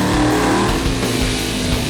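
A 1953 Ford drag car runs its engine loudly and steadily, a dense, throaty mechanical roar with slight pulsing that holds at close range throughout, with no voices.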